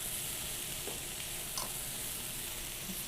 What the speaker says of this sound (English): that should be a nice, healthy kind of medium sizzle sound